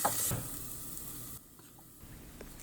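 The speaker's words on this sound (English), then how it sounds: "I'll heat up some oil and start frying the garlic" Garlic fries in hot oil in a cast iron pan, making a soft, faint sizzle that holds steady and then eases slightly.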